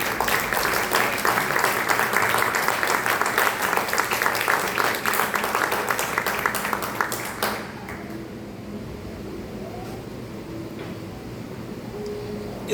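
A church congregation applauding, a broad wash of many hands clapping that carries on for several seconds and then drops away, leaving a quiet room with faint murmurs.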